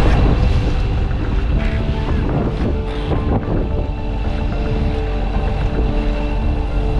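Strong, steady wind roars across the microphone over open water, with a constant rumbling buffet and a boat's hum beneath.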